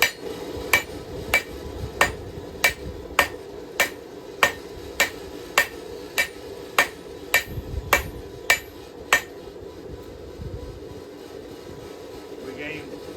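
Steady hand-hammer blows on hot steel while forging a knife by hand, about fifteen sharp, evenly spaced ringing strikes at roughly one per second, then stopping, over a low background hum.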